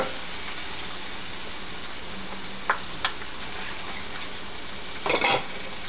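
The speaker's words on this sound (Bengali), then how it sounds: "এখন আমি 2 মিনিট সময় দিয়ে পেঁয়াজটাকে ভুনেছি।" Onions frying with ginger in a pan for chicken roast, a steady sizzle throughout with a few brief stirring scrapes and clinks near the end.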